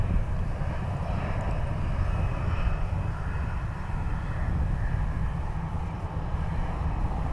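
Jet engines of a Ryanair airliner roar steadily on its takeoff run at Dublin Airport, a broad, constant low rumble heard from a distance without pause.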